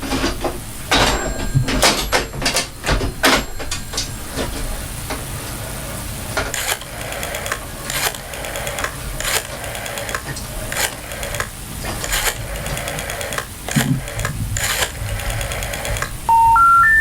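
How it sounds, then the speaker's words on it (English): Rotary dial on an old telephone, a string of clicking pulse bursts repeated across the clip, ending in a rising three-note tone sequence, with no talking. "just go to the old trusty dial up here. Let's see if we can do this on the phone."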